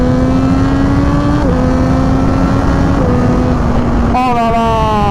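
Close, loud engine drone from a Triumph Daytona 765 Moto2 limited edition ridden in the rain, climbing through the revs with quick gear shifts and a final sharp step up in pitch.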